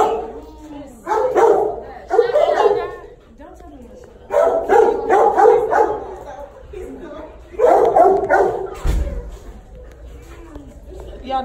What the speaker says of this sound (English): Yeah, these are big dogs.